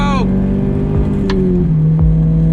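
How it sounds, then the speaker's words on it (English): A Toyota FRS pulls hard in third gear on a highway, its engine a steady, close drone with a steady note under continuous cabin noise. "Let me do a nice little third gear pull for you guys"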